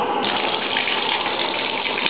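Water running steadily from a low-pressure line into steel plumbing being filled, a continuous close, loud gushing hiss with no talk.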